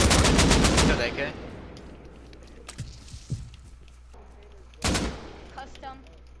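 AK rifle firing in a shooter game: a loud, rapid automatic burst up front, then scattered footsteps and small impacts, and a second sharp shot later, with game sounds throughout.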